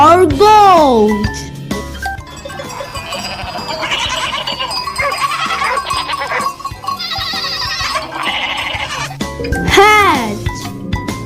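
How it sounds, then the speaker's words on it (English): A goat bleats at the start and again near the end, with a jingly children's tune and child speech running between the calls. "G for goat."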